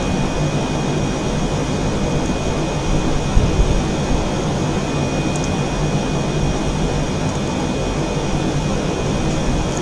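Steady jet engine roar of a bomber-type aircraft cruising just below 10,000 feet in a flight simulator game, a continuous broadband drone with a faint high whine, loud and unbroken throughout.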